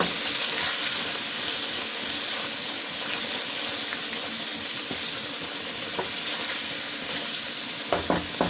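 Ginger, garlic and green chili paste frying in a pan with chicken and chickpeas. A continuous hissing sizzle is heard, with occasional utensil clicks toward the end.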